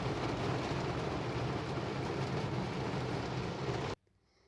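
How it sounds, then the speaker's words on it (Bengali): Heavy rain drums loudly and densely on a car, a steady close roar that cuts off abruptly near the end to near silence. "কি শব্দ হচ্ছে বৃষ্টির"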